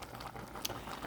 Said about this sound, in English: Oh, look at that. It's boiling nicely.